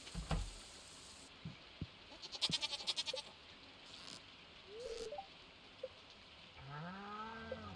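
A goat bleats on a Stardew Valley video game farm, a wavering call near the end that rises over quiet game ambience and a few soft clicks and taps.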